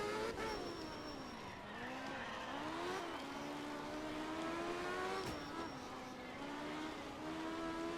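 Rally car in the art of rally video game threading through chicanes, its engine a continuous, rising and falling drone as it shifts and brakes, with faint tire noise throughout at low volume.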